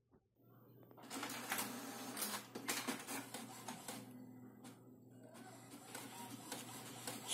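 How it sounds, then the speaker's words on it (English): An HP DeskJet 5820 inkjet printer prints a page: after a brief pause, busy mechanical whirring, clicking and feeding rattles start and continue at low volume, with short gaps, to the end. "So now as you can see my printer is working properly."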